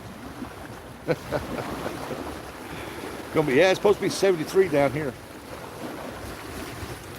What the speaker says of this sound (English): as you can tell, it's pretty windy.